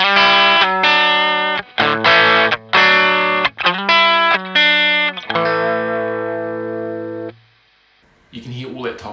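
An electric guitar played through a Red Witch Nonpareil effects pedal, bright, loud and close: a run of choppy, rhythmic chords, then a long sustained ringing chord fading to near silence before another strum.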